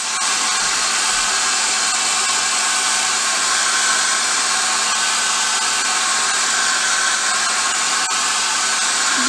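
A heat blower runs steadily to warm a Tamiya model decal, giving a constant loud whooshing hiss for several seconds, close by with no pauses and no voices.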